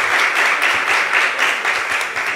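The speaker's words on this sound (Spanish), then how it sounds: "le pido un aplauso para ella igual." Concert audience at a Chilean music performance by the orchestra Cuerdas Para Lota applauding an orchestra member, a loud, dense, continuous wash of many hands clapping together.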